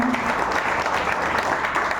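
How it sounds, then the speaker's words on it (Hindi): A seminar audience gives a brief, vigorous round of applause, a loud and continuous wash of clapping hands lasting about two seconds. "एक जोरदार तालियां चाहता हूं"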